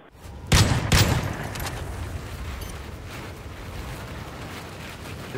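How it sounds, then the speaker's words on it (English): Two sharp, loud gunshot bursts crack in quick succession near the start, then a long, fading rumble of noise trails off. "Just shot a couple of times."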